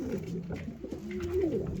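Pigeons coo in low, rounded murmurs close by, overlapping with soft background noise.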